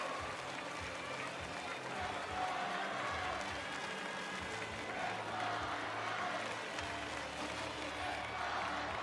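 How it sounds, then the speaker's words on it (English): Crowd applause fills a basketball arena during a B.League game between the Koshigaya Alphas and Chiba Jets, a steady wash of clapping and cheering with a commentator talking over it. "Chiba Jets players going over to applaud their fans in the opposite corner"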